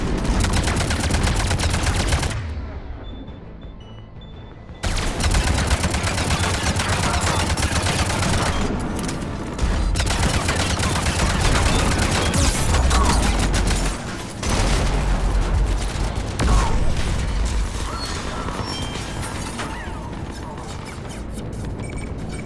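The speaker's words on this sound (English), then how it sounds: "Cannons engaged." Heavy cannons fire in the Mass Effect 3 video game, a dense, loud barrage of booming shots and crashes that runs almost continuously, broken by a brief lull near the start, with busy battle noise throughout.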